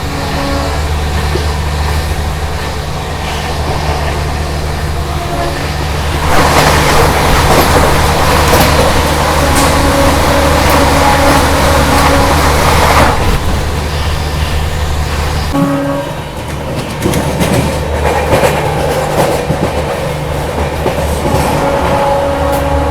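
New Delhi–Varanasi Vande Bharat Express 22436 crossing alongside a moving Shatabdi Express, heard from on board as a loud, continuous rumble and rush of passing carriages with clattering rail noise that surges midway, then settles back to steady running.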